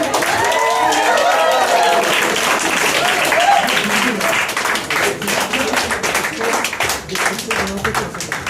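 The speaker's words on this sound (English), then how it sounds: "Can we again have a big round of applause for the new" Wedding guests applaud a newly married couple with loud, dense clapping that starts over a few voices and settles into steady sustained applause.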